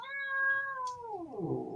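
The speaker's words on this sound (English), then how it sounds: "that's an angry kitty" An angry cat lets out one long, drawn-out meow that holds steady, then bends downward into a rough, growling caterwaul, fairly close and unaccompanied by any talk.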